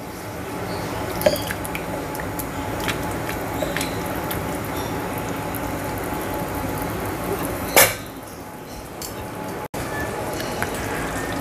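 A creamy mushroom sauce simmers on medium heat in a pan, giving a soft, steady sizzle and bubbling with a few faint clinks.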